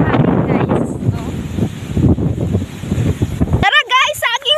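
Strong wind buffets a nearby microphone outdoors among banana plants with a steady, rough roar, then cuts off as a voice speaks at the end.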